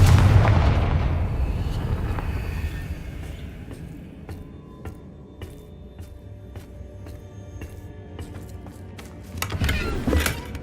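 A Confringo fire spell in Hogwarts Legacy goes off as a loud, booming blast at the start and rumbles away over several seconds, followed by quieter scattered clicks and taps and a second swell near the end.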